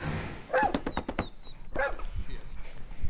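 A puppy barks in short, sharp bursts and gives a couple of high whimpering yelps, close by, with people talking around it.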